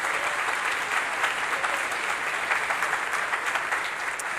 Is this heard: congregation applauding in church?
yes